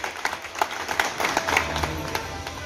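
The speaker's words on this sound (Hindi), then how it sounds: "उनके लिए एक जोरदार तालियां बजानी चाहिए हम लोगों को" A crowd at a local public gathering claps in applause, a brief patter of many hands with scattered sharper claps, moderately close and steady.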